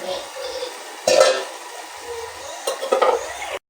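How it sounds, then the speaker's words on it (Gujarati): Spinach curry being tempered in hot oil and stirred in a pot: a soft sizzle runs throughout, with a louder burst of clattering and scraping near the start and again toward the end, close by with no talk. "શાક વઘાર દઈએ"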